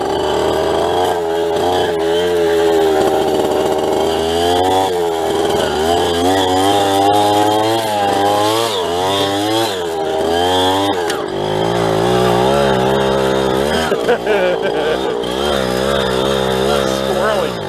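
An old mini bike's small engine revs hard in soft sand in first gear, its whine rising and falling loudly and close over the whole stretch, with someone speaking at times.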